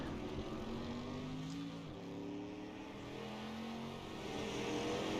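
A number 17 street stock car's engine drones steadily in a video game race, a continuous mid-pitched roar with gentle shifts in pitch and no voices over it.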